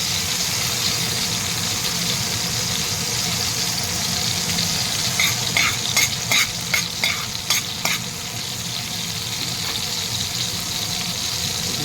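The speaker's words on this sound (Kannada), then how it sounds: "ಈಗ ಎಣ್ಣೆ ಕಾದಿದೆಯಲ್ಲ, ಇದಕ್ಕೆ ನಾನು ಜೀರಿಗೆ ಹಾಕ್ತಾಯಿದ್ದೀನಿ" Cumin seeds sizzling in hot oil for a North Karnataka stuffed brinjal curry: a continuous close frying hiss, with a run of sharp spoon-on-pan clicks and scrapes in the middle, and no talk.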